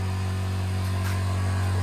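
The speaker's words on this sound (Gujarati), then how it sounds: "આ એન્જિન છે, 4 સ્ટોક એન્જિન છે." A four-stroke petrol sprayer engine with a 20-litre tank runs steadily with a constant droning hum, close by and loud, rising slightly toward the end.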